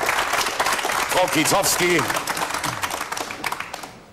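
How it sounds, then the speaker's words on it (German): Studio audience applauding at a 1989 German TV game show, a steady wash of clapping running throughout beneath a voice speaking over it. "die Isenburger klatschen auch noch, für beide Mannschaften, für beide Seiten"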